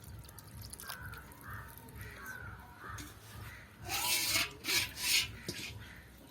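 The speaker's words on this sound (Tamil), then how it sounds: "சீனியும் 1ஆம் பாலும் விட்டு கிண்டி கொண்டிருக்கிறோம்." Thick red raw rice flour kali with sugar and coconut milk is stirred in a pot with dull rubbing scrapes, growing louder and rougher in a few bursts near the end, while crows caw in the background.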